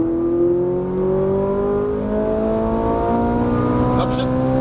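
A Ferrari 458 Italia engine accelerating in a straight line, a loud, close, continuous roar that climbs steadily in pitch as the revs build.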